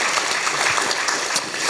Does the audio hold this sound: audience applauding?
yes